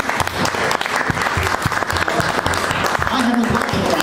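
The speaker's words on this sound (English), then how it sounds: "Big round of applause for the lady here." A crowd at a poets' evening raffle gives steady, dense applause for a prize winner. The clapping stays full and even throughout, and a voice is briefly heard beneath it.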